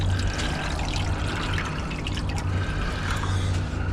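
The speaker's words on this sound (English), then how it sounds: "I'm going to put some more water in" Water pours steadily into a lye solution used for stripping solder mask, a continuous close splashing trickle with a low background hum throughout.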